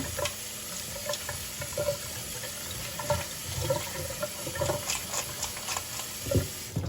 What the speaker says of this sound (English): You just want to make sure it's clean.